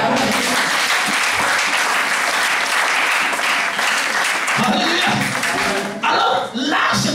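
A church congregation loudly applauding and cheering in praise, dense sustained clapping with voices mixed in, dipping briefly near the end before picking back up.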